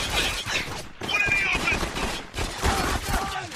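Dense bursts of automatic gunfire and scattered shots crackle through a loud Spec Ops: The Line firefight, mixed with chaotic combat noise, with no clear pauses.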